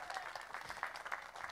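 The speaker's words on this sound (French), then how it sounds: "Je vous demande un tonnerre d'applaudissements" Applause at a Relais pour la Vie charity event in Rixensart. Brief, faint, steady clapping from a crowd, heard from a distance.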